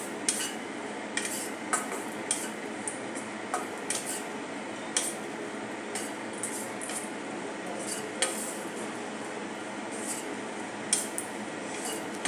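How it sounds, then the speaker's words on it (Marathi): Black raisins are stirred and roasted in a pan for laddus, with a soft steady sizzle and light scraping clicks of a spoon against the metal at an uneven rhythm. "आता आपल्याला सतत ढवळत याला शेकून घ्यायचे आहे।"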